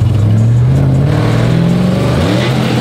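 The engine of a burnout truck with a sequential gearbox revs hard, loud and close, its pitch climbing steadily and then dipping slightly near the end, with no talk over it.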